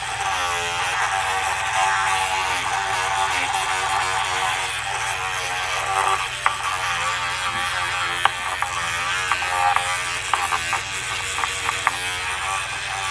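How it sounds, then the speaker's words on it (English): An electric toothbrush buzzes steadily while scrubbing a Penn spin fishing reel spool, a close, continuous whir with faint scratchy clicks and small taps as the bristles work across the parts. "just activate the toothbrush"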